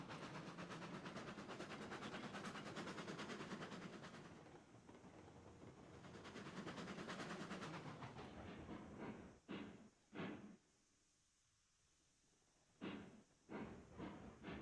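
A train runs in a video game, giving a continuous rumbling rail drone with clickety-clack texture that drops out near the end, leaving a few short bursts separated by quiet gaps.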